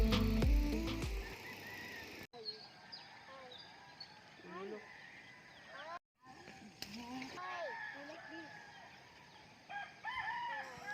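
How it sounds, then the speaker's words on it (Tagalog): Roosters crow repeatedly at a distance among chirping birds at a riverside campsite in Porac, Pampanga, with a burst of nearby noise at the start and quiet outdoor ambience between calls. "Huni ng mga ibon, tilaok ng mga manok"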